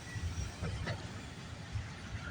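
CN freight train A434 rolling past at night, a steady low rumble of railcars with faint metallic clicks, heard at moderate distance without talk.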